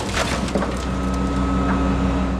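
A Nissan 280ZX is smashed at a scrapyard, giving a few sharp cracking impacts early on over a loud, continuous mechanical roar with a steady hum running through it.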